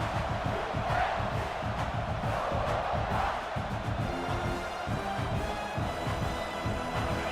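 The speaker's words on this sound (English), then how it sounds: "listen to this crowd noise. This stadium is vibrating." Loud, dense roar of a packed stadium crowd at a Michigan State vs South Carolina football game, steady and sustained throughout with surges of cheering and shouting layered within.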